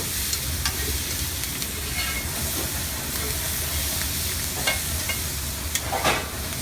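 Fajita vegetables, including onion, sizzle steadily in a hot pan and are flipped with tongs, giving a constant loud hiss with a few scraping and clattering touches, close, with no talk.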